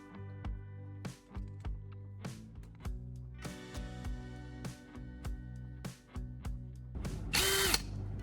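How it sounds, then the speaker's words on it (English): A power drill whirs in a series of short bursts, stopping and restarting about a dozen times, ending with a brief high-pitched screech as it bites into a PVC bracket. "I'm drilling another small hole in the bottom of the PVC bracket to thread the antenna wire through."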